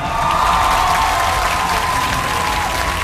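Studio audience at a Bolero singing competition finale applauds, a dense, loud, continuous wash of clapping from a large crowd that holds steady throughout.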